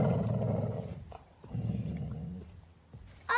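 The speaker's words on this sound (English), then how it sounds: "There's an Alsatian guarding us." An Alsatian dog growls in two low, rumbling bursts of about a second each, close and fairly loud, with a short pause between them and no talk.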